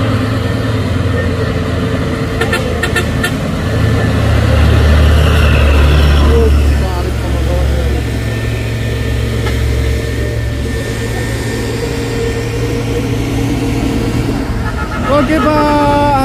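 Puso 6x4 tanker truck running nearby, its engine a loud, deep, steady rumble with a heavier throb partway through, joined by other road noise and a short rising tone near the end.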